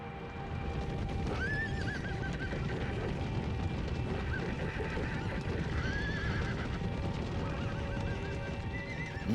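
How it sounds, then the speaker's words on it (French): Horses from the First World War era neigh in a couple of rising whinnies, while hooves clip-clop beneath a thick, constant wash of background noise. "Nombreux sont les chevaux qui n'ont jamais été montés."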